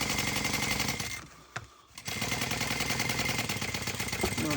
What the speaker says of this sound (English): we're going to sew all the way down to the 1/2-inch mark.